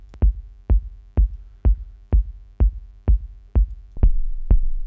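A techno kick drum with its 100 to 200 Hz range cut pounds in an even, steady pulse, punchy and tight with a low tail after each hit, loud and alone.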